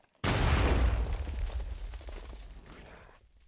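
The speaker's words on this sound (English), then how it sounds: "And he also throws grenades like that." A grenade explodes in the Dawn of the Flood video game: one sudden heavy blast with a deep low boom, followed by a rumbling tail that slowly fades over a few seconds.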